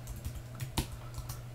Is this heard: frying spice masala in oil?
no